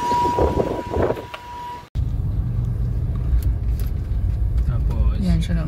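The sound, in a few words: car being driven out through a gate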